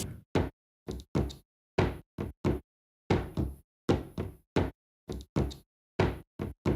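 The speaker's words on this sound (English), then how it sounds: "there was a cupboard door as well" A series of sharp wooden knocks on a cupboard door in irregular clusters, close and fairly loud, with short silent gaps between groups of two or three hits.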